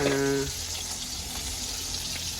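Bubbling, hissing water boiling in a pot over a fire fills the clip steadily, with a brief tonal hum at the very start.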